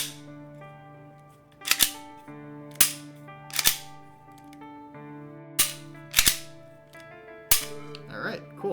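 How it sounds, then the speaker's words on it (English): A handgun is dry fired in a quiet room, six sharp metallic clicks spaced about a second apart, crisp and close over a faint steady hum. "You guys really like the dry fire today"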